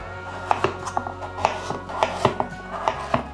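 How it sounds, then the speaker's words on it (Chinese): A knife slices peeled potato halves on a cutting board, about a dozen crisp, quick chops in an uneven rhythm, close and clear with no talking. "把马铃薯切片"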